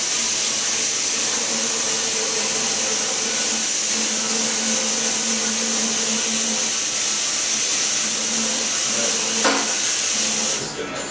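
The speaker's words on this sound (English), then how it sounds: "So let me wash my hands real quick." Tap water runs steadily into a sink during handwashing, a continuous close rush and hiss that cuts off just before the end.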